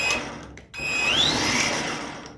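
A Kobalt 24-volt brushless string trimmer spins up with a rising electric motor whine after a short pause, then runs steadily nearby before easing off, with no voices.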